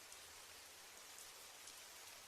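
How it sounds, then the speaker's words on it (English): Steady rain falls continuously on an outdoor surface, a dense, even hiss with no breaks and no voices. "it's raining"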